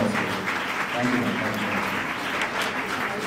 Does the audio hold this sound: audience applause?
yes